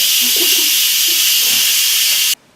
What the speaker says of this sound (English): it took about 2 minutes for all the steam to come out, the pressure to release